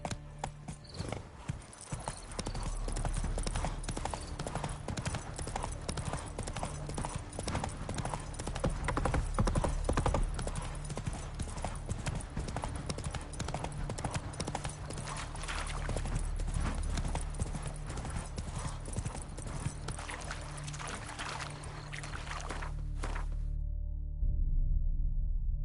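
Hooves of Roach, Geralt's horse in The Witcher 3, clip-clopping in a fast, steady galloping rhythm for most of the ride, close and continuous, before fading out near the end.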